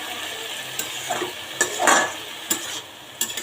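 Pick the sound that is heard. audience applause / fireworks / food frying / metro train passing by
food frying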